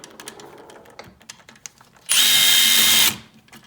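A power tool zips out a bolt from a Yamaha YFZ450 engine crankcase in one loud, steady whir lasting about a second, following quieter clicks and handling noises.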